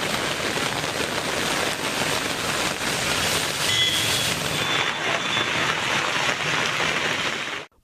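Heavy rain pouring steadily across parts of Tamil Nadu, a dense, continuous loud hiss of drops on surfaces with no talk, lasting until it cuts off abruptly at the end.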